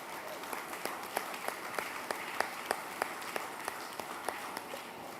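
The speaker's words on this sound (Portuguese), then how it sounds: "Nós podemos dar um aplauso hoje noite?" Scattered, fairly sparse clapping from a church congregation during a service, individual claps standing out as a steady patter, moderately quiet throughout.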